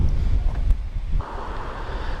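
Low rumbling wind buffets the microphone in gusts beside a 2006 Honda CB900F (919 Hornet) motorcycle, steady and close, with a faint higher hiss joining partway through.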